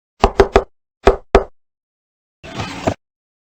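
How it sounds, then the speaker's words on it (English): In a video game, a secret knock sounds on a door: three quick sharp raps, then two more after a pause, and a brief rattling shuffle follows, crisp and close. "I'll go ahead and give the secret knock."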